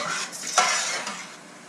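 Onions cooking in butter in a pan for French onion soup are stirred with a utensil. The close, steady sizzle carries scraping strokes and one sharper clack near the middle, with no talking.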